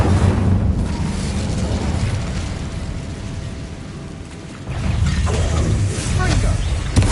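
Incendio fire spell cast in Hogwarts Legacy: a loud, roaring burst of flame that swells, dips into a quieter rumble, then erupts again in a second fiery blast.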